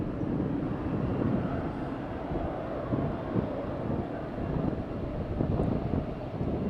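A British Airways airliner from London City at Faro Airport, a steady broad roar of jet engine noise rising and falling gently, fairly loud and continuous with no voices.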